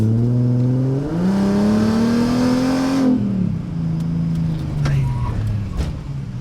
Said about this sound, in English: So we'll do one more hard stop and then pull it in, because I'll definitely overheat them doing this.